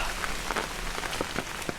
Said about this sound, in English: as you can tell, it's raining, and I got my rain gear on